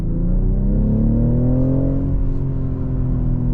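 A 2023 BMW X6 40i accelerates up to speed, its engine a loud, steady, close drone that rises smoothly in pitch across the stretch, heard from inside the cabin with no talking.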